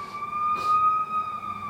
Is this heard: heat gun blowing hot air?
no